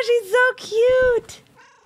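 A puppy in the video game Demonologist lets out two or three high, whiny, mew-like calls in quick succession, close and fairly loud, the last one fading softer.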